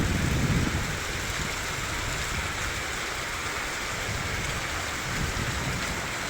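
Heavy rainfall in Natunhat, Mangalkot, a thick continuous roar of rain on surfaces with a low rumble swelling at the start and again near the end, no one speaking.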